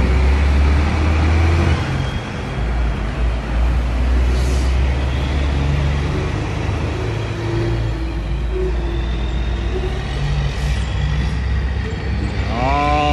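Heavy trucks and cars roll past on a two-lane road near a small pueblo, a steady loud wash of engine and tire noise with a brief air-brake squeal near the end.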